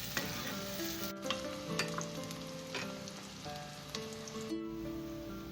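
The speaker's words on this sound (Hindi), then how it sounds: "लाइट ब्राउन करेंगे प्याज को, हम ज़्यादा तेज कलर नहीं देंगे।" Onions fry steadily in a karahi until light brown, a constant close sizzle with a few spatula scrapes and stirs, and no voices over it.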